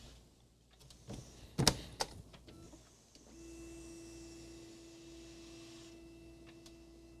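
An Epson scanner works through a CD-i service manual page: a few sharp mechanical clicks and clunks up front, then a steady motor whine with a sustained tone as the scan head travels, moderately close and alone.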